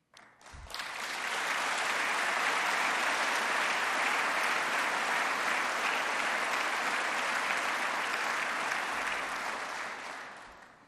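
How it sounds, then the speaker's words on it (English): An audience at a State of Metro address breaks into sustained applause, a dense steady roar of many hands clapping that swells quickly, holds for about ten seconds and then fades out. "I'd ask you to stand and get another round of applause"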